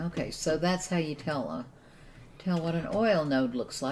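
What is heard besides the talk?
None of the usual background noises is heard.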